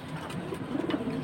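A red pigeon gives a soft, low cooing call with a few short murmured pulses at close range.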